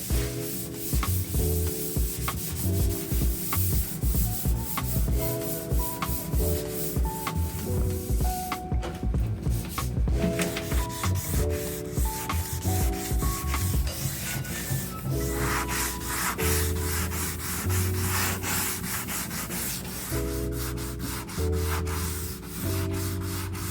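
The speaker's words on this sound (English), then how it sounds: "We have gone through, sanded everything." Steady, continuous rubbing of sandpaper over a boat hull ahead of painting, a dense scratchy texture with a repeating rhythm of strokes, fairly close and unbroken, with a faint musical background running underneath.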